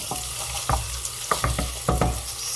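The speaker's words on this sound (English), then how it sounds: "So now that my onion is starting to saute" Onion sautéing in a pan, a close steady sizzle and fry with a few louder stirring scrapes at intervals. No one talks.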